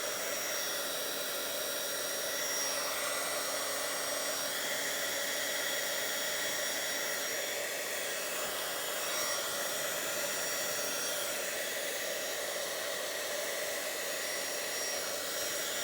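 Hair dryer blowing steadily to dry puddles of wet paint on a Bible journal page, a loud, constant close whoosh with no break from start to finish.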